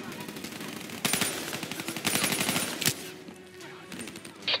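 Automatic gunfire in the Call of Duty Black Ops 3 campaign, dense rattling bursts close up with short breaks between them, against a constant battle background.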